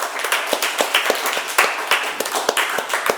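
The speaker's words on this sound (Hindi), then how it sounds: "जोरदार तालियां" Studio audience on a Hindi TV quiz show claps loudly and close up for about three seconds, a dense burst of quick, uneven claps filling the space after a correct answer.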